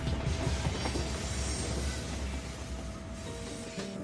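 A freight train in Arriaga, Mexico rolls past with a steady rumble of wagons and wheels, a faint high squeal running through it and occasional clanks, with no voices over it.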